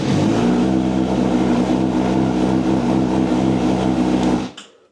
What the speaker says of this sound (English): Start the bike.